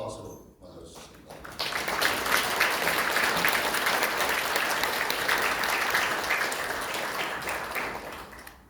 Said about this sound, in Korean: 이종찬 회장님을 큰 박수로 맞아주십니다